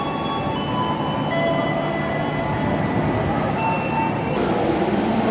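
KA Matarmaja train standing at a Jakarta station platform, a steady broadband rumble of engine and station noise with faint tonal hums, continuous throughout with no clear voices.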